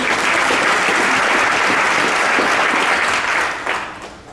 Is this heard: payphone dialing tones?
no